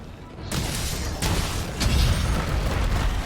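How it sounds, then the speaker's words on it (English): Loud explosions from a Master Rank Uragaan hunt in Monster Hunter World: Iceborne, with booming low rumbles and a couple of sharp bursts layered over continuous action noise. "Let's avoid those explosions again."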